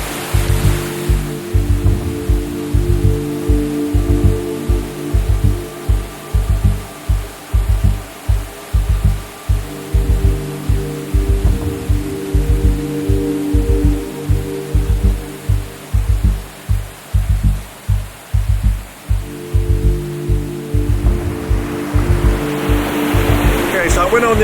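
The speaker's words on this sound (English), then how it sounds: "this is a really pretty little falls." A small waterfall on a hiking creek rushes steadily and loudly up close, a constant broad roar with rhythmic low thumping buffets running through it from start to finish.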